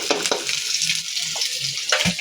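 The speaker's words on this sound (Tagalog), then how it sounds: "Painit muna tayo mantika mga idol. Yan. Lagyan na natin, sangkutsa na natin ng bawang at sibuyas." Garlic and onion sauté in hot cooking oil, giving a continuous close sizzle with light stirring scrapes and taps scattered throughout.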